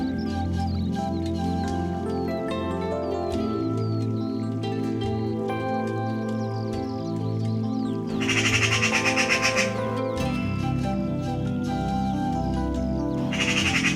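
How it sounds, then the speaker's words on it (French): A young carrion crow calls among chattering magpies outdoors; bursts of harsh bird calls and chatter rise over a steady, droning background bed, loudest in a cluster near the end. "Une jeune corneille noire semble mal à l'aise au milieu de pies bavardes. Et un de ses parents l'appelle."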